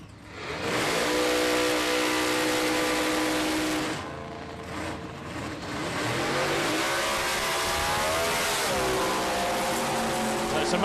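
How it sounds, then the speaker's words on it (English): Pontiac Firebird drag car with a turbocharged LS engine roaring at a drag strip, loud sustained revving with a short dip in the middle and rising, sweeping engine pitch afterward, with a voice faintly talking over it. "Giving Steve a hand with the Pontiac. Firebird."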